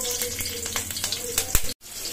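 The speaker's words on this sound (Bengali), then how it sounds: "দেখো মাছ ভাজার ওই তেলেই দিয়ে দিচ্ছি কাঁচা লঙ্কা" Green chillies go into hot leftover fish-frying oil in a home kitchen, giving a dense, crackling sizzle with sharp pops that cuts off abruptly near the end.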